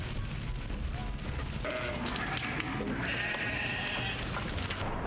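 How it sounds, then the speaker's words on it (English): Sheep bleat on a livestock transport carried by a Dina TRV truck with a 160 horsepower engine, several overlapping calls rising over a steady low rumble of engine and road noise. "is transporting flocks of sheep across long distances"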